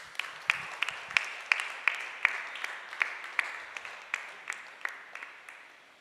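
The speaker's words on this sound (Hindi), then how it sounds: "हम ताली बजाकर स्वागत" A church congregation claps in unison during Sunday worship, sharp rhythmic claps at a steady beat of roughly three per second, fairly close and without talking.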